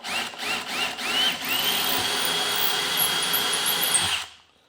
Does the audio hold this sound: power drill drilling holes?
yes